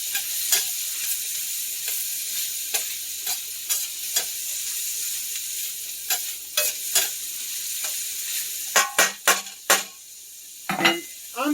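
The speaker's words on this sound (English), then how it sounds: "you're going to want to saute this for just a little bit till they're about translucent" Onions sauteing in an oil-slicked pan for scalloped potatoes sizzle steadily while a utensil scrapes and taps against the pan in irregular strokes, close up, with a quick cluster of knocks near the end.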